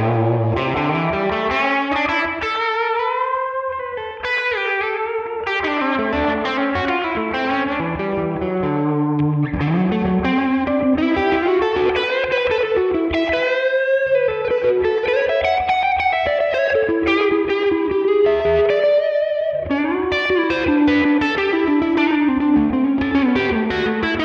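Electric guitar playing a flowing melodic blues lick, each note followed by a quick slapback echo from a delay set around 130 and a roomy reverb tail, steady and full throughout.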